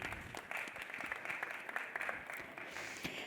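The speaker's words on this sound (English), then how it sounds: "If we could have a round of applause for the panelists." Audience applause for a venture capital conference panel at Gateway Gulf 2024, a steady moderate wash of clapping from a seated crowd lasting a few seconds, somewhat distant and soft.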